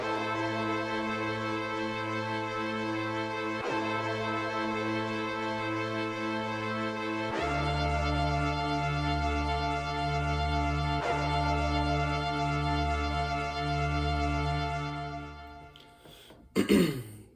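Sustained synth chords with a deep bass layer, shifting every few seconds, ending in a brief burst of noise.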